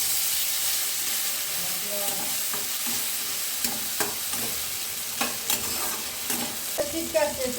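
Chopped tomato goes into a pan with cumin and fries in a steady close sizzle, with intermittent scraping stirs and utensil clicks growing more frequent toward the end.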